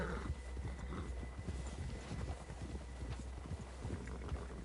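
Horse hooves clip-clopping at a steady, repeated rhythm in the Red Dead Redemption 2 video game, fairly faint and continuous with no talk over them.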